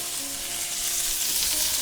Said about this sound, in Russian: мы его немножко успокоим сейчас, потому что он очень активно обжаривается